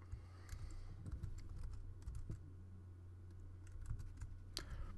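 Steady typing on a computer keyboard, a continuous patter of fairly quiet key clicks over a low background hum, with no voices.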